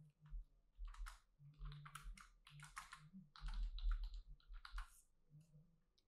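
Quiet bursts of typing on a computer keyboard, quick clusters of soft key clicks with short pauses between them, close but faint, no voice.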